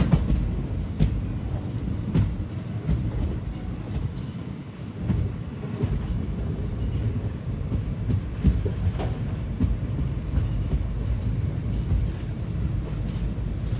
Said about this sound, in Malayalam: ചെങ്കോട്ടയിലേക്ക് ട്രെയിൻ ഇത് എത്തിക്കൊണ്ടിരിക്കുകയാണ്.